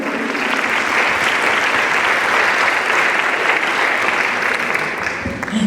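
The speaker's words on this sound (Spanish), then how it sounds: "Les pido un aplauso para Miguel, por favor." Sustained applause from a conference plenary audience on gender and masculinities, a dense, even wash of clapping hands that holds steady throughout and tapers slightly at the very end.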